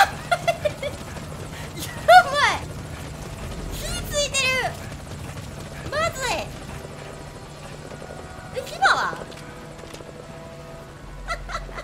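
A video game helicopter's rotor chops steadily in the background while a person speaks in short bursts over it.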